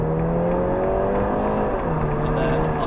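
A police car engine pulls hard under acceleration on a driving course, its steady drone rising in pitch before a brief dip and renewed climb, loud and close from inside the car.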